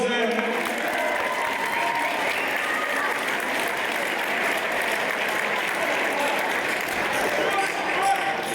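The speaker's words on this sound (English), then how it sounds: "Ladies and gentlemen, big round of applause for both fighters there" Spectators at an amateur boxing bout applaud both fighters after the final round, a sustained wash of clapping and cheering from a hall crowd, steady and moderately loud with no break.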